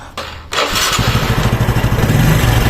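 Motorcycle engine starting and settling into a close, loud, steady pulsing run after its carburetor has been cleaned with carb cleaner, with a quick crank before it catches.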